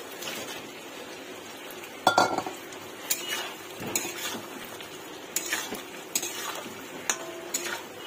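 Potatoes are added to cooked-down masala in a pan for aloo dum and stirred, with a low sizzle under repeated clinks and scrapes of a metal spoon against the pan, several sharp knocks among them, close and clear.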